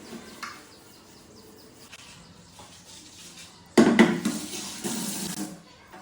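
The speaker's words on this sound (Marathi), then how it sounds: "किचन ओटा पण आज धुवून घेतला आणि नंतर सिंक घासून घेतलं" Tap water runs while a kitchen counter and sink are washed, starting as quiet trickles and scrubbing, then a loud gush of running water splashing into the sink that continues before tapering off.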